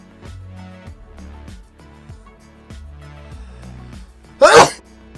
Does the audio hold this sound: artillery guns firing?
no